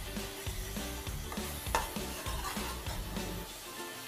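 Onion paste with coriander, cumin and garlic paste fries over high flame while being stirred, a close sizzle broken by a steady rhythm of spoon scrapes and knocks against the pan, with no talk.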